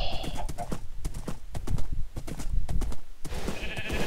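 Rapid, steady clip-clop of horse hooves at a brisk gait in Minecraft, close and rhythmic, with faint animal sounds in the background.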